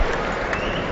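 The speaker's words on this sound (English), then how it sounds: "Acknowledges the applause" Cricket crowd at an England versus India Test match applauds a batsman reaching fifty, giving dense, steady clapping that fills the whole moment.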